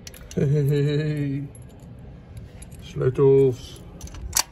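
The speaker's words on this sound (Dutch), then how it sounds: "Sleutels." A bunch of keys jangles and clinks at an old building's door during a bicycle trip to Paris, in short bursts, with a voice-like tonal hum alongside.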